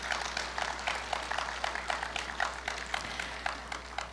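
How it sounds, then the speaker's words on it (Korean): A crowd at Korea University's 111th anniversary ceremony gives applause that comes through as fairly faint, evenly paced clapping, repeating steadily throughout against a low background hum. "격려하는 박수 한번 부탁드릴게요"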